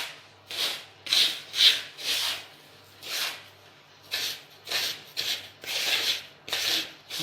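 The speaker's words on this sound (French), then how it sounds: "vous frottez entre les mains, comme ça" Hands rubbing a crumbly almond pastry mixture together, about a dozen rhythmic gritty swishes in quick bursts with short pauses, close and clear with no talking.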